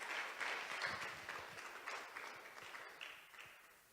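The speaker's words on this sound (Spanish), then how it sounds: "¿Por qué no le damos un aplauso al Señor en esta mañana?" Church congregation applauding during a Sunday morning service, a faint, distant wash of many hands clapping steadily throughout.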